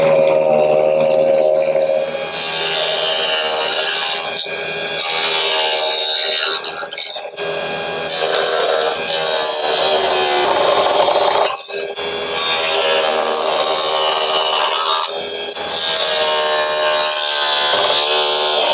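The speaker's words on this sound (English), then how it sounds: "Let's go ahead and just turn this on and see how this does, and let's do a little bit of sanding, see how that works." A mini table saw in a workshop is used for sanding, giving a loud, harsh, high-pitched whine with abrasive rasping that runs nearly continuously, broken by several short pauses and restarts.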